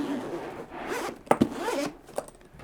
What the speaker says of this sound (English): You also have these two nice zippers. It's a dual zipper.